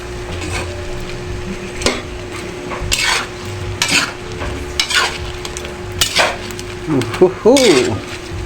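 Butter garlic shrimp are stirred and fried in a pan. A sizzle runs under repeated scraping and clanking of a utensil against the pan, close and loud, and a voice is briefly heard near the end.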